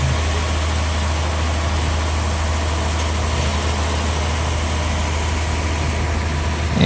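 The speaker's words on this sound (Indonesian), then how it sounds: "Ini mesin forklift, mesin pengangkat kayu sudah mengangkatnya" Forklift engine hauling a giant log at an outdoor sawmill site: a steady, loud diesel drone with a deep low rumble running throughout, no voices.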